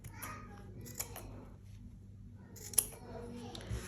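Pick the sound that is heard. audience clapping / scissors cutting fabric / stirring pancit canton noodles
scissors cutting fabric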